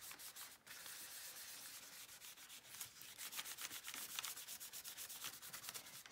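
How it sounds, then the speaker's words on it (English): Steady, close scrubbing of marker being rubbed off a crayon resist drawing on paper, a continuous dry sanding-like rasp with quick repeated strokes throughout. "you might need to do the rubbing part, which is what takes some of the marker off the top"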